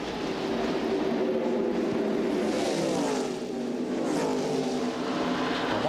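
NASCAR Busch Series race cars roaring past at Darlington in 1998, a loud sustained engine drone with pitch sweeps as cars pass by close, with no talk.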